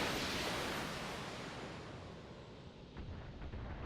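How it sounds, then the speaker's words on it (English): LRM-15 missiles fire in the BattleTech video game, a loud, sustained rushing roar of launches that slowly fades, with faint crackling near the end and no talking. "here we go with our LRM-15 fire"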